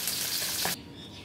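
Fish, shing catfish, sizzles loudly in hot oil in a pan for a moment, then the frying drops to a quieter, steady hiss as the fish is turned.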